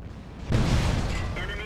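An ARL 44 tank gun fires in World of Tanks, a single loud boom erupting after a quiet moment and trailing into a rumbling decay with faint mechanical whine.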